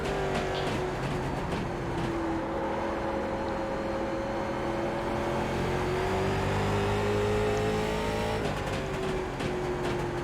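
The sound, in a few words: late model race car engine at Langley Speedway in the video game iRacing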